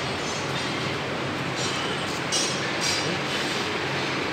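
Softy ice cream machine running in clean mode with only its motor on and the compressor off, a steady, loud mechanical whir and hum that stays constant throughout without speech.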